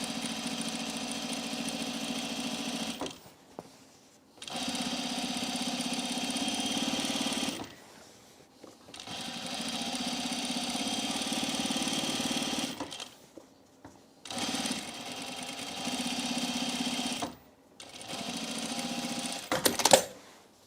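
A sewing machine stitches shirt plackets from the top during holiday sewing, running in five steady mechanical bursts, each a few seconds long, with brief pauses between them.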